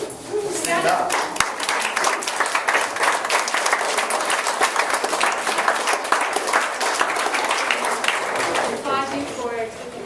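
Sustained audience applause fills a coaching event hall, dense steady clapping from a large crowd heard up close for about ten seconds, with a voice briefly audible near the start and end.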